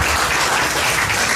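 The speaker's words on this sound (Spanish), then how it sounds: "Lo despedimos con un fuerte aplauso." A closing audience claps loudly and steadily, a dense, continuous wash of many hands with no break for the whole short stretch.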